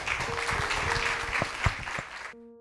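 A church congregation applauds during a worship service, a dense, steady wash of many hands clapping at close range that stops abruptly near the end.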